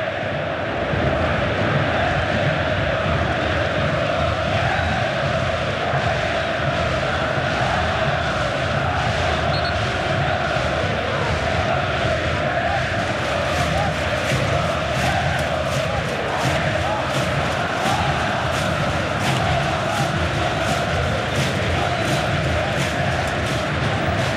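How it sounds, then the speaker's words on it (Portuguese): Vasco football supporters roaring in a packed stadium during a 2011 Copa do Brasil quarter-final against Atlético PR, a dense, steady crowd din with chanting and cheering sustained throughout, loud and unbroken. "Torcedor do Vasco comemorando por enquanto a classificação"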